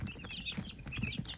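Backyard baby chicks kept in a tote under a heat plate give soft, short clucks and cheeps, several in quick succession, close and fairly quiet with no talking.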